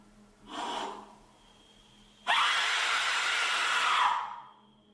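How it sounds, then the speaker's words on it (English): A loud, harsh scream from an Aztec death whistle bursts in suddenly and holds for nearly two seconds before fading, following a brief breathy rush of air earlier. "now it's time for a scream with an Aztec whistle."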